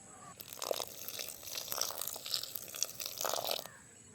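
Hot water poured into a mix of ingredients in a village kitchen, a steady splashing, trickling stream with a few louder bursts, fairly close and alone.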